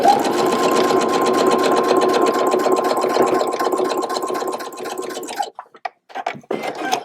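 A sewing machine stitches a wide 7mm zigzag with a twin needle, a fast steady whirring chatter running close and loud for about five seconds before stopping, followed by a few scattered mechanical clicks.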